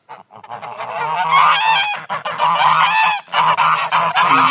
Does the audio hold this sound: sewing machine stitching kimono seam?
no